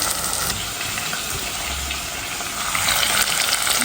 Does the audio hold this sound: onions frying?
yes